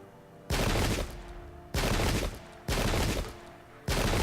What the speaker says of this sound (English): Lots of residual shooting